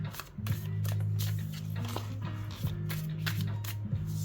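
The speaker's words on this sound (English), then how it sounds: "I'll riffle shuffle it right now just to kind of get it mixed up" A new Waite–Smith tarot deck riffle-shuffled in quick papery bursts of flicking and clicking, with steady low tones droning underneath throughout.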